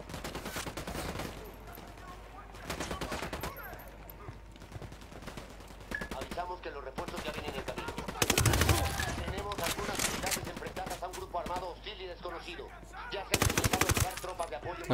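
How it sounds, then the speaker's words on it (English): Gunfire in the Ghost Recon: Wildlands video game: repeated loud bursts of automatic fire and single shots, separated by quieter gaps, with someone talking between the volleys. "I like this sight, but this gun has"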